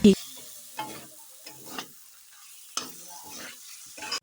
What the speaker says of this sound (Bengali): এর তো দেখো আলুটা এখন কষিয়ে নিচ্ছি